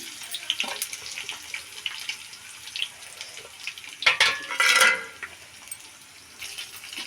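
Mustard seeds, cumin seeds and dried red chillies crackle and sizzle in hot oil for tempering, a busy popping hiss with a couple of louder spattering bursts near the middle.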